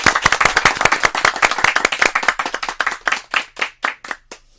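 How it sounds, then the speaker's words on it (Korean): A church congregation appearing on a Christian radio broadcast claps together: a loud, close burst of many hands that gradually thins into scattered, slower claps and stops. "박수 한번 칠까요?"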